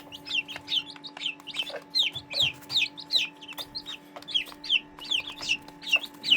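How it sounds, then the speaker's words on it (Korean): Serama bantam and pheasant-chicken chicks cluck and cheep busily while eating, a steady stream of short high peeps and chirps repeating close by throughout, with no talking. "병아리들은 정말 열심히 먹어요"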